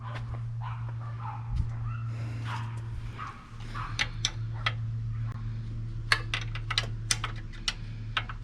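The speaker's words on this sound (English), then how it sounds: "Someone's dogs are going berserk." Dogs bark sharply and repeatedly, fairly distant, during a Craftsman snowblower teardown with a 5.5 Tecumseh engine. Barks bunch up toward the end over a steady low hum, with no talk.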